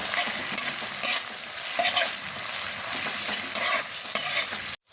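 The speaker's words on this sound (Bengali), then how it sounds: "দিয়ে দিচ্ছি পেঁয়াজ। পেঁয়াজটাকে একটু বাদামি করে ভেজে নেব।" Onions frying in a pan until light brown, a steady loud sizzle with occasional bursts as they are stirred, near and continuous with no voices, ending in a brief cutoff.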